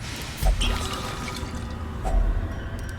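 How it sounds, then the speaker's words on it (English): Holy water used on an item in the Darkest Dungeon video game gives a few brief liquid drips and splashes, each a short watery blip, over a low steady ambient drone with no talking. "this is where you use the holy water"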